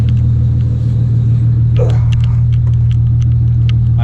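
Toyota 2JZ engine with a 58mm turbo swapped into a Nissan S14 idles while warming up, a loud steady low rumble close by with faint clicks and a brief muffled voice partway through.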